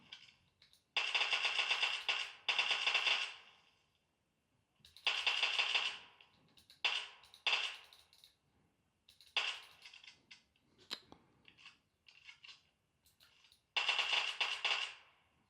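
Automatic gunfire in PUBG Mobile played on a Samsung Galaxy A40, several sharp rattling bursts of rapid shots separated by short gaps and a few single pops, crisp and fairly loud with little else around.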